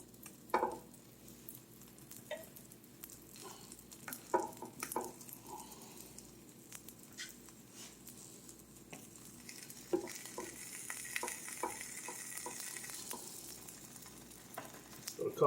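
Zucchini sliders frying in a pan, with a steady soft sizzle broken by a few sharper pops and spatters early on, growing a little louder and hissier toward the end, close by with no talk.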